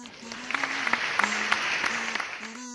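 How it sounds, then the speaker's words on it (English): Applause from a crowd, steady clapping with scattered sharp claps over a sustained hum of tones. "With thunderous applause."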